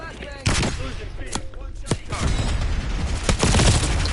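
Flashbang blasts and gunfire from the video game Black Ops 6, with several sharp bursts and loud shots breaking out over a dense, busy battle mix.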